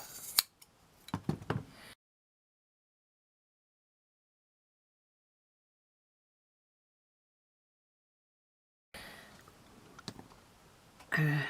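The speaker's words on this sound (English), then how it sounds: "And then what we can do, oops, we can trim that off." Scissors trim excess material on a miniature kitchen craft piece: a few close, sharp snips and clicks at the start, a long silence, then faint handling and rustling sounds.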